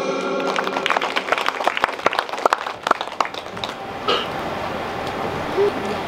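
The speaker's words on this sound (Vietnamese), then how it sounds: "Mời quý vị dành một tràng pháo tay chào đón cho đôi MC đêm hôm nay." A live concert audience in Saigon claps for the show's two hosts, loud dense applause fading after about four seconds into crowd murmur and a few stray sounds.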